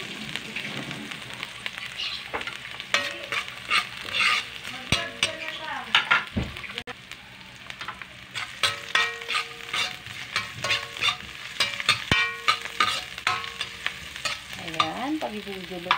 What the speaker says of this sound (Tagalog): Pagiging luto-luto na ang ating luya, bawang at sibuyas.